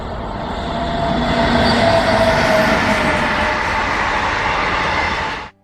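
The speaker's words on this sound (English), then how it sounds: "The action was followed by the Dharwad bound 12725 Siddhaganga Intercity Express." The Dharwad-bound 12725 Siddhaganga Intercity Express train passes close by as a loud, continuous rolling rumble with wheel clatter, then cuts off abruptly.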